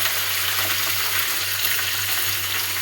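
Vegetables sizzling steadily in hot oil over a lowered gas flame, a continuous close, even frying hiss with no pauses and no voices.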